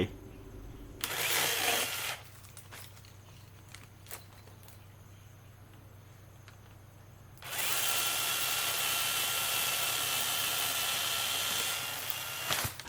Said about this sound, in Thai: นี่คือเลื่อยโซ่ไร้สายของ Bosch รุ่น GKE 18V ขีด25 TP